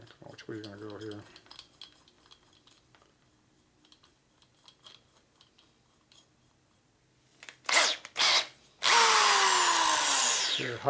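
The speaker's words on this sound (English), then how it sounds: "Okay, so I'm going to drill a hole through it. Just a little small drill bit right here." A small high-speed drill motor with a tiny bit boring a small hole, heard as short bright bursts and then a sustained loud whine near the end, after quieter handling sounds.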